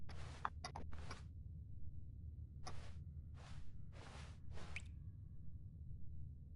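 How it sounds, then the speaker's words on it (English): Water dripping in The Stanley Parable: a sparse series of faint, soft drips and splashes, some clustered and some spaced apart, over a low ambient hum. "I hear the water, I don't know where it is though."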